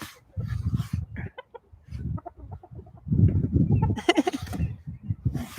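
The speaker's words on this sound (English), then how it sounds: "we have lots of chicken. Yeah, and the chickens are invading." Chickens cluck in bursts around a village, several birds close by and fairly loud, with short pauses and a busier stretch of clucking toward the end.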